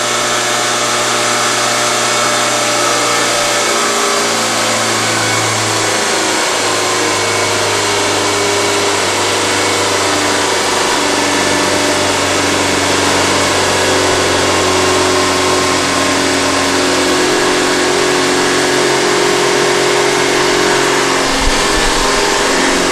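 A multi-cylinder petrol engine runs under dynamometer load at around 2700 RPM during a Morse test, a loud, steady close drone with a constant hum and a slight pitch shift partway through.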